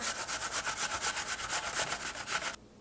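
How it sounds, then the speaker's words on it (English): A small apple is grated over a box grater with a bottom, giving a quick run of about fifteen rhythmic rasping strokes, close and clear, before stopping abruptly. "Okay, I'm gonna grate this apple."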